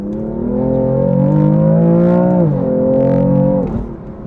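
A BMW engine revs hard and loud up close as the car accelerates on a straight road, its droning pitch climbing, dipping at a gear change, then rising again before easing off.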